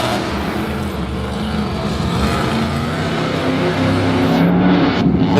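Monster Jam monster truck engine at an arena show in Lyon, France, in 2018, a loud, steady roar that rises slightly in intensity toward the end, with no talk.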